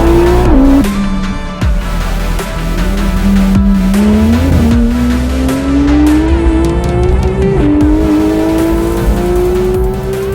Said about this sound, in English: we're gonna take this GT3RS on track for the very first time.